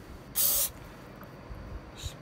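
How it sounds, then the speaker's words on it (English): A short, loud hiss of aerosol cleaner sprayed onto a car's throttle body, followed a moment later by a second brief, fainter spritz, against quiet background noise. "You just want to spray it down real good."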